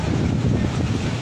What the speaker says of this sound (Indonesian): Angin lesus dijajar ini.